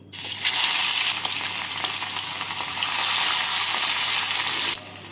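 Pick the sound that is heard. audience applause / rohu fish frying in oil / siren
rohu fish frying in oil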